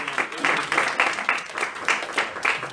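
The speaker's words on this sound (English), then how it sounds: "let's give him a round of applause." Small audience clapping after a speaker's introduction at an academic philosophy talk, a rhythmic patter of a few hands in quick regular pulses, close by and moderately loud.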